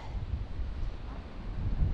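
Low, rumbling wind buffets the microphone continuously outdoors on a cold day, a steady blustery roar with no voices.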